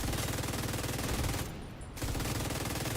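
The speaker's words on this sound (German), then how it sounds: "Ja, drum sind da auf einmal so viele, die auf mich schießen." Enemy gunfire in the video game The Division 2 rattles in dense automatic bursts, loud and continuous, broken by a short half-second lull before the shooting resumes.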